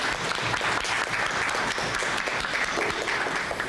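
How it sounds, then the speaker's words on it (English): An audience at a community forum on safety and liberation claps together, a full, steady roar of many hands that holds strong from start to end. "Give yourselves a round of applause."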